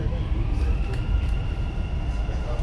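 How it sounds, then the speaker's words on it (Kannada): Dubai Metro train at Al Jaddaf station, a steady low rumble with a faint high whine, loud and continuous throughout, close by and with no clear words. "ನಾವು ಮೇಲೆ ಹತ್ತು ಬರೋದಕ್ಕೂ ಟ್ರೈನ್ ಬಂತು."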